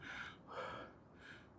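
Heavy panting breaths after climbing Inwangsan mountain in South Korea, three long rasping exhales close to the mic, alone without speech.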